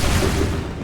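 Musket volley in Assassin's Creed 3, a dense, continuous crackle of many shots fired on command, loud and close, filling the whole short burst without a pause.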